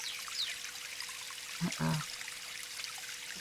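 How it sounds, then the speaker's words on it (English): Waterfall in a Unity HDRP forest environment demo, a steady broadband rush of falling water running throughout, with a brief spoken word over it midway. "That's kind of like the waterfall that they have."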